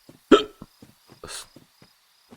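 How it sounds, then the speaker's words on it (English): One sharp hiccup sounds close and clear, followed by a few soft breathy noises in an otherwise quiet room. "Hiccup, sorry."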